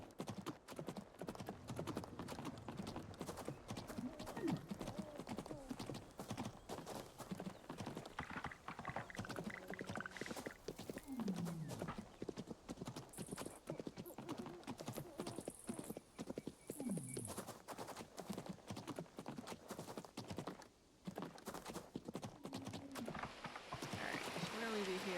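Horse hooves clip-clopping in a quick, steady rhythm as a horse is ridden in the farming video game Coral Island, continuous and fairly close, with soft ambient game sounds and occasional whinnies beneath.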